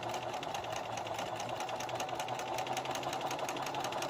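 A sewing machine stitches white thread along a bandana to make a drawstring bag, a steady close mechanical whir with a fast even needle rhythm running continuously without talk.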